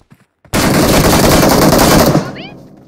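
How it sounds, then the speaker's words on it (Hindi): Sustained automatic gunfire in the battle royale game BGMI, a loud, dense burst of rapid shots lasting about two seconds that cuts in suddenly after brief quiet and tails off with ringing echoes. "श्रीजू गोली चला दे बस दूर से"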